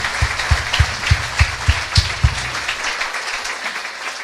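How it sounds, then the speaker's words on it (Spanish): Rhythmic unison clapping from a church congregation, about seven evenly spaced claps over roughly two seconds under a dense crowd background, then fading to quieter crowd noise. "¿Qué tal si le damos un fuerte aplauso a nuestro Dios con alegría?"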